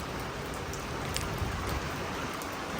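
Steady rain falls in a village during the monsoon, a dense, even hiss with a few louder drops, no voices.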